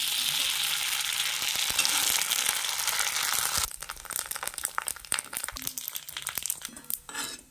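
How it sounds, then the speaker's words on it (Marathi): Sago sandge, crisp sabudana fritters, frying in hot oil in a kadai, making a loud steady sizzle for several seconds that drops into quieter, crackling bursts toward the end, with no talking. "खिचडी संग खायला शाबू सांडगं थोडं तळून घेतो"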